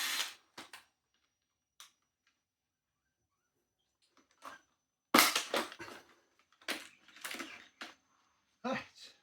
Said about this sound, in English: then undo these 2 screws